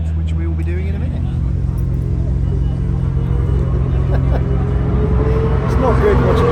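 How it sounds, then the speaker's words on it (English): Cars head out onto the Silverstone race track with a steady low engine rumble and revs rising in the distance, while a person talks over the noise. "There's all the owners of their cars heading out, which we will be doing in a minute."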